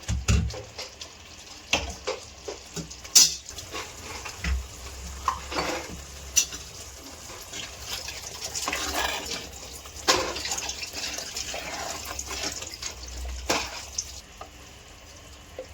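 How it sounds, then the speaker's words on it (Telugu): Water is poured into a sizzling egg masala curry in a pan, with an ongoing frying hiss, scattered clinks and stirring scrapes, and short splashy bursts throughout. "ఇప్పుడు కొంచెం వాటర్ పోసుకుందామండి"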